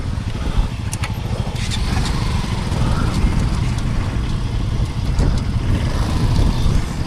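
A Hero Xpulse 200 motorcycle engine runs at about 19,000 feet on the highest motorable pass, starved of oxygen in freezing air; a rough, continuous low rumble with wind-like noise holds throughout, and voices may come through faintly.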